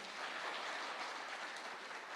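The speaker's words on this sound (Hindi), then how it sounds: "उसके लिए बहुत जोरदार तालियां होनी चाहिए" A live summit audience applauds, a steady dense wash of clapping heard at a distance and fairly soft, with no voices on top.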